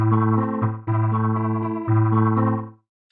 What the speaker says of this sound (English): what that does is it emulates a rotary speaker